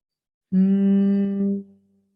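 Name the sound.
person humming during pranayama breathing exercise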